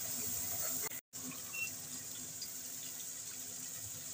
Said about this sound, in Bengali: মিক্সিং জারটা ধুয়ে একটু জল দিয়ে দেবো যাতে মশলাটা পুড়ে না যায়